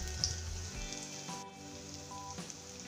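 Sabudana thalipeeth, a fasting flatbread, frying on its second side in a pan, giving a steady soft sizzle with faint crackle throughout, fairly quiet and with no talking.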